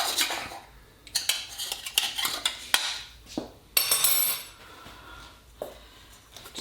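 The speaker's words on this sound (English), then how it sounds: "Let's run the knife around this one." Knife run around the inside of a metal cake tin to loosen a maple pecan cake, a series of close metallic scrapes and clinks with short pauses between.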